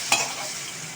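Oil frying on a medium flame while Ugadi dishes are cooked, a steady close hiss and crackle with a brief sharp burst near the start, no voices.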